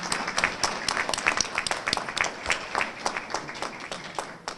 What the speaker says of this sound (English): Parents, can you please stand so we can give you a round of applause for all the support you have provided our students.